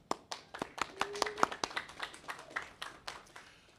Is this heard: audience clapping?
yes